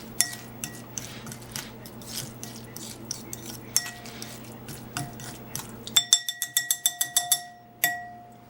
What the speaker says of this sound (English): I'm just mixing it up a little bit more here to make sure all the flavors